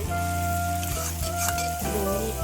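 Potatoes tossed into a pan of frying mutton curry and stirred, giving steady loud sizzling with scraping stir strokes and a tonal hum throughout.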